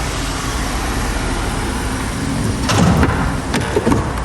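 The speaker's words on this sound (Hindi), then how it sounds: "उप्स उप्स उप्स, दरवाज़ा लग गया।" A car door bumps shut amid steady road and engine rumble on a rainy day, two or three dull thuds landing close in the last couple of seconds.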